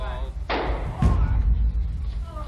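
A single sharp gunshot rings out in archival live news footage as Lee Oswald is shot in Dallas, Texas, a loud abrupt crack amid crowd commotion and a voice talking.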